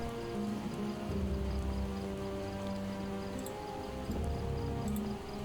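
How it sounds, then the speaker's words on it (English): Steady rain falls in the zombie survival game Project Zomboid, a constant broadband hiss with faint insect-like chirps, alongside a low droning hum, continuous and without talking. "The rain is nasty, nasty, nasty."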